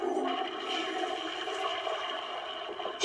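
A cartoon toilet in The Simpsons flushes and drains, a steady swirling rush of water that holds evenly for about three seconds and then cuts off.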